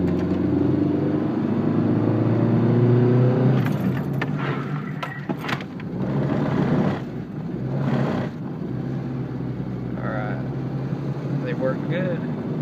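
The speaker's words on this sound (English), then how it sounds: "Now it's time to test the brakes." Dodge Neon driving on a road while its new front brakes are tested, a steady engine and road rumble throughout with brief clunks and rattles from the car cabin midway.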